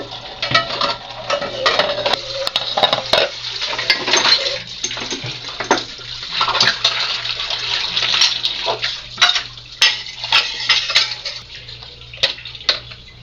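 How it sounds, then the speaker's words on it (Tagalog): Dishes being washed at a sink: running tap water with close, frequent clatters of plates and clinks of cutlery, irregular and busy throughout, with no talking. "Samahan niyo akong maghugas ng pinggan."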